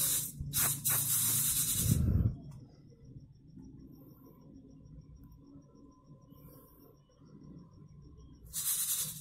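Freshly roasted puffed rice is sieved from hot salt, giving bursts of rattling, hissing grain noise at the start and end with a quieter scratchy stretch between.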